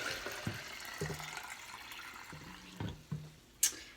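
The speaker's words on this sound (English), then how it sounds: "this is like a gallon jug. Just gonna pour it in here so I can pour it in my bottles" Kombucha poured from a gallon jug, producing faint intermittent glugs, drips and splashes of liquid with short pauses between pours and a sharper clink near the end.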